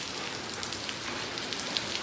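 Steady rain falls at night, a dense, even patter of drops on surfaces, moderately loud and continuous with no voices.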